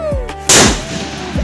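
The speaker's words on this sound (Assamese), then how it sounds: "আৰু এইফালে বোমা ফুটে আছে" A Diwali firecracker goes off with one loud, sharp bang close by, its crackling burst trailing off over about a second against a quieter festive background.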